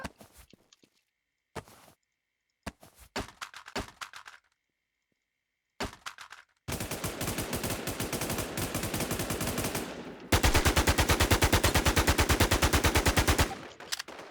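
Gunfire in the online survival shooter WarZ: a few scattered single shots, then long sustained bursts of rapid automatic fire, loud and close, with no voices over it.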